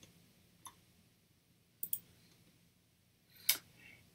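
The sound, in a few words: mouse clicking while editing in Photoshop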